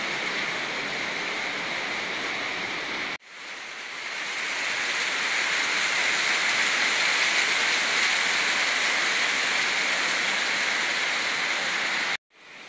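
Steady, heavy rain pours at night around a rest house, a dense continuous hiss that holds throughout apart from two abrupt brief cutouts, with no voices.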